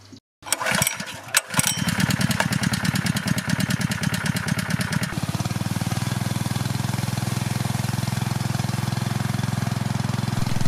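A powerful motor-driven water pump flushing a hand-drilled well borehole cranks, starts and settles into a loud, steady mechanical drone at full power that runs continuously.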